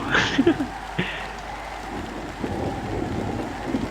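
Steady rain hisses throughout a stormy scene in the farming game Harvest Moon: Light of Hope, with a couple of brief soft sounds near the start over the continuous downpour.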